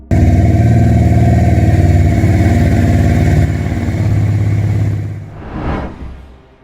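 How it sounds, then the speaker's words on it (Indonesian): A Benelli QIV 250 V-twin motorcycle with split exhaust idles and revs loud and close, a deep steady throbbing drone that drops off near the end, followed by a short swelling pass. "Suara mesinnya juga akan unik, sebab sistem pembuangan terpisah di mesin V menghasilkan suara knalpot yang lebih berat."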